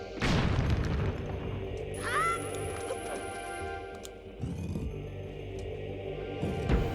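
Bomb exploding in The Legend of Zelda: The Wind Waker HD, a loud booming blast up front followed by game sound effects, a bright chime, rumbling and further thuds and pops.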